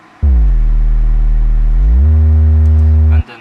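A car sound effect in an electronic music track: a loud, buzzy engine drone holds steady, glides upward in pitch midway, then stays level before cutting off abruptly.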